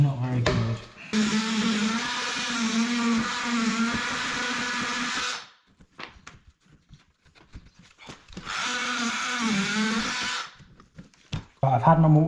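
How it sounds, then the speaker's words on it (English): Two sustained buzzing bursts of an oscillating multi-tool cutting to straighten a cut, each several seconds long with a steady whine, separated by quiet handling noises and a short spoken remark. "I've had my multi-tool in there and I've straightened that cut up"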